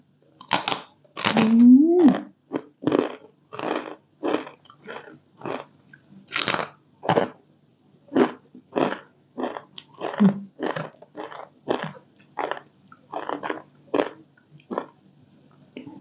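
Crispy fried salmon skin is eaten with a spicy Thai pounded salad and crispy pork. It gives loud, close crunching bites in a steady rhythm of separate crackly chews, with a few short gaps between them.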